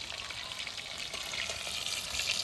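Fish frying lightly in a pan for a sour dish gives off a steady, close hiss and crackle of sizzling oil that runs evenly throughout with no voices.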